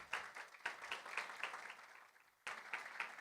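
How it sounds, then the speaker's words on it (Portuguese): Applause welcoming a speaker to the stage at a corporate internal-communication conference, a faint, thin patter of separate claps that briefly drops off near the end before picking up again. "Uma salva de palmas para ele,"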